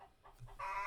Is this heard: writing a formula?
no